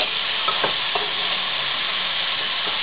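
Broad beans (avarakkai) stir-fried in a pan for poriyal: a continuous close sizzle with a few soft scrapes and taps as the vegetables are stirred and mixed.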